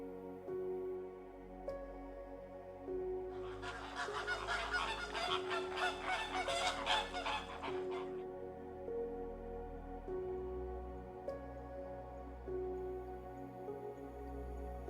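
Wild geese honking in a vast inland wetland in China, a dense chorus of overlapping calls swelling loudly in the middle, with scattered nearer honks before and after over a steady background.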